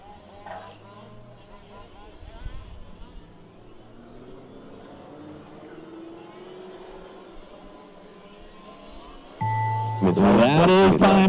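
Fifth-scale RC race cars run laps during the 2019 5th Scale World Challenge STC A Main, their small engines whining and shifting pitch as they pass at a distance before a louder, closer engine roar swells near the end.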